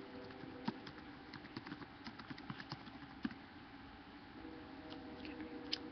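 Keys tapped on a computer keyboard while a note is written, irregular soft clicks in a quiet room with a few sharper strikes, no talking.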